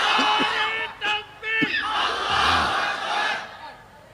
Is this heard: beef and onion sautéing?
no